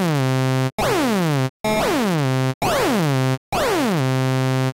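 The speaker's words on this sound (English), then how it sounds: "Mod Envelope modulates the lo-fi parameter of the sample pad." A Phalanx synth sample pad in Vengeance Producer Suite, its lo-fi parameter modulated by a mod envelope at 75% amount, plays five loud, bright repeated notes. Each note has a sweeping, warbling downward timbre and short gaps between notes.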